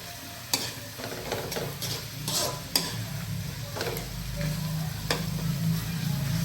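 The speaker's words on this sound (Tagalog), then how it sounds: "Let's cook our pork thoroughly." Pork sizzles and fries steadily in a hot pan in a provincial kitchen, with a run of sharp scraping clicks from stirring near the start and a continuous crackling hiss that builds slightly toward the end; no one speaks.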